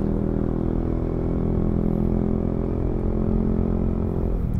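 A motorcycle on a road in the Bulacan–Pampanga area gives off a steady, fairly close engine drone with a constant low hum, easing off slightly at the end.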